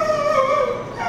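Inside an animal shelter kennel, a dog lets out a single short, high, wavering whimper, close and fairly loud, with no voices.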